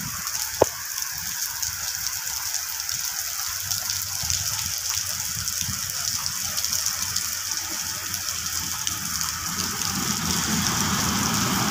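Steady rain pours down near a railway line in Indonesia, a broad continuous hiss that swells slightly louder toward the end, with one sharp click near the start and no talking.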